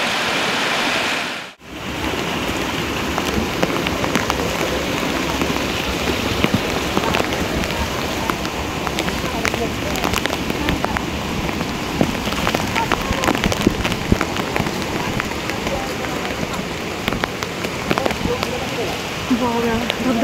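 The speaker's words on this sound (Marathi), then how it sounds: "धबधबा जवळ आला." Waterfall near a trekking trail at Visapur fort in the rainy season, a dense, continuous rush of falling water close by, loud and unbroken apart from a brief dropout near the start.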